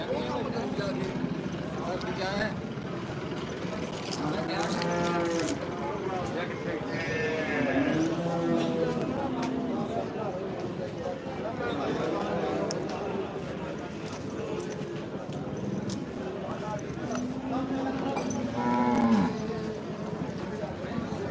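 Water buffaloes low and grunt amid a busy, noisy crowd at a livestock market in Dhanaula, with several people talking loudly nearby throughout.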